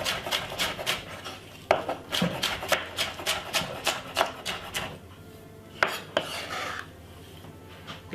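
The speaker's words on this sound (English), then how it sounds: "So we're going to cut up the spring onion" Spring onion chopped finely with a kitchen knife on a board: a quick, steady run of crisp cuts that pauses briefly, then a few more strokes.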